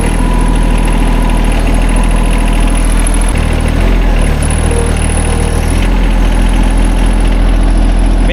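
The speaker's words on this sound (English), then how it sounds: "Got the old reliable tractor here." A tractor engine runs at a steady idle, a loud, low, chugging rumble heard close up with no voices.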